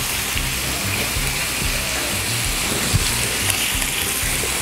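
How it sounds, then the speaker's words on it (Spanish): Hamburger patties fry on low heat in a pan, giving a steady, even sizzle with soft crackles throughout and no talking. "Vamos a ponerlas así a fueguito bajo para que se vayan cocinando"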